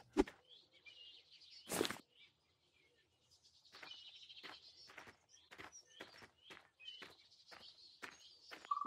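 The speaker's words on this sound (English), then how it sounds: "Wow, listen to the sound the woodpecker makes." A cartoon woodpecker hammers on a tree during a nature walk, a quick series of sharp knocking taps in irregular bursts alongside bird chirps and faint footsteps.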